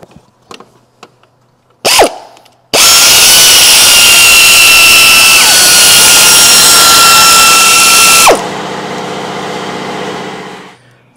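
A power tool spins out the water pump pulley bolts on a Chevrolet Cruze 1.8L engine, loud and close: a couple of short bursts, then a sustained high whine of several seconds that cuts off and winds down.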